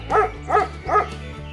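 A farm dog gives three evenly spaced barks, loud and close, with a low steady hum beneath them.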